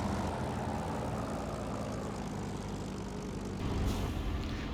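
Supermarine Spitfire engine in the IL-2 Great Battles flight game, a steady loud propeller drone rumbling throughout the takeoff run, building slightly in the final second, with no talking.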